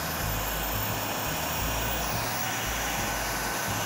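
A Lufthansa airliner's jet engine spools up in the Roblox PTFS flight game, a loud continuous roar and whine with low pulsing throb throughout, no voices over it.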